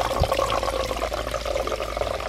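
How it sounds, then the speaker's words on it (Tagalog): Spring water gushes out of the ground near a house in a steady, churning rush, continuous and close without pause and no talk over it. "Kaya pala parang nagbubomba yung itsura ng labas ng tubig doon."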